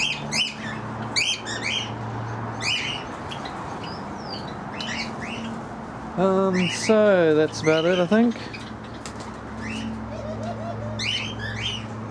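Birds in a large walk-in aviary chirp and tweet throughout, with pigeon-like cooing and a louder squawking burst in the middle; a person speaks briefly near the end.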